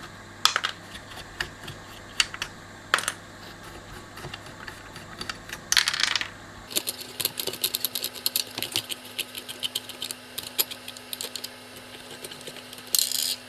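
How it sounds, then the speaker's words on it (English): Standoffs being unscrewed from a Tom Evans Mastergroove SR mkIII preamp circuit board: small sharp metallic clicks and ticks, sparse at first then busier, close and quiet over a faint steady hum. "Just unscrew these standoffs. They come off quite nicely."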